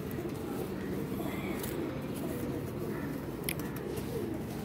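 Pigeons coo softly in low, repeated murmurs amid a busy background of rustling and faint chirps.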